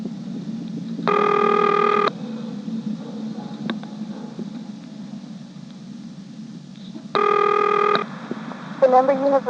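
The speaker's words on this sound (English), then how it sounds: "I'm now dialing a vacant code" Telephone on a step-by-step XY exchange in Dale City, Virginia, 1973, dialing a vacant code: two steady tone bursts over a constant hum and hiss, then a rising intercept tone at the end.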